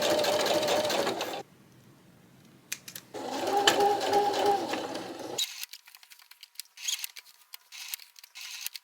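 Sewing machine stitching letters onto a dress, running in two bursts of steady whirring with a pause between, then stopping as brief clicks and handling noises follow.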